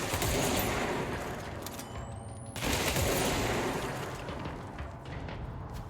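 Dense, continuous gunfire and crackling blasts from a firefight in the video game Control, loud and sustained with a brief dip before the barrage resumes.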